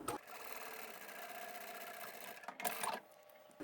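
A sewing machine stitches a fabric seam with back stitches, a close steady mechanical whirring that runs throughout, with a brief louder burst near the end as the stitching direction changes.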